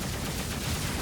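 The Cyclone weapon firing in the video game Overload, a dense, continuous stream of rapid shots at a steady loud level with no talking.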